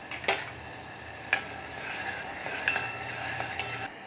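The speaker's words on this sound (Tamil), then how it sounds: "நெய்யை விட்டுண்டு இந்த ஏற்கனவே அரைச்சி வச்சுருந்த பலாப்பழத்தை இதில் போட்டு கொஞ்சம் வதக்கிக்கலாம்." Ground jackfruit sautéing in ghee in a pan on medium flame, a soft, steady sizzle with a few light scrapes and taps of a spoon stirring, quiet and close, with no talk.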